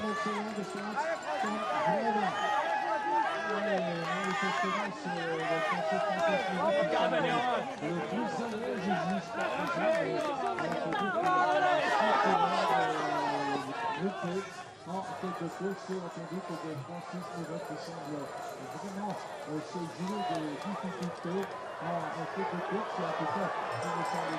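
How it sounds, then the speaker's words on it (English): A crowd of spectators at a cyclo-cross World Cup race in Namur, Belgium roars and cheers with no break, a loud and dense wash of voices with shouting rising in the middle. "The crowd going pretty mad now"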